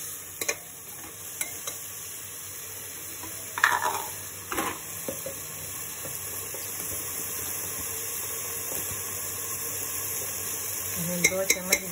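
Ginger, garlic and spices sizzle in a pan as they are stirred, a constant soft frying hiss broken by a few louder stirring scrapes and clinks.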